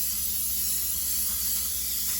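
A continuous, loud hiss of aerosol cooking spray being sprayed into a pan sounds close up, steady and unbroken for a couple of seconds.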